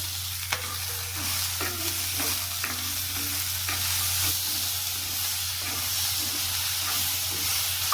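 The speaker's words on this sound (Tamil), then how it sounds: "கட் பண்ணி வச்சுருக்க தக்காளியை போட்டுருலாம்." Chopped tomatoes for a crab gravy frying in a pan, a loud continuous sizzle with repeated spoon stirs and scrapes against the pan throughout, close up and without speech.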